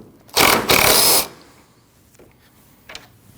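A ratchet spins off a 10mm headlight bolt on a 2013-2019 Ford Escape: one loud burst of rapid clicking lasting under a second, then faint scattered clicks, no voices.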